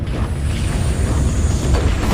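Explosions in a Dota 2 tournament match, a dense, continuous low rumble of blasts and bursts lasting a couple of seconds, loud and steady with no talk.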